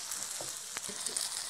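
Bread halwa of bread, milk, ghee and sugar is stirred in a pan, a faint, steady sizzle with a few soft scraping strokes of the spoon, no voices.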